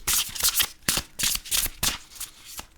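Magical Spirit Oracle cards slide and slap together in quick shuffling strokes, close and clear, with around half a dozen bright rustling bursts and short pauses between them and no talking.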